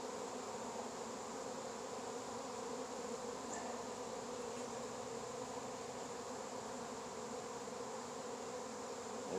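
Honey bees buzz steadily in an open hive on a February day in Fairplay, Maryland, a dense, continuous hum that stays even and close throughout with no talking.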